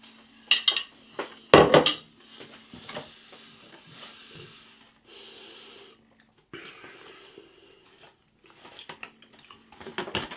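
Cutlery clinks and scrapes against a plate as a fork is loaded with pork sausage, mashed potato, gravy and peas from a Bisto Classic bangers and mash ready meal, with a couple of sharp clatters early on and softer scraping afterward.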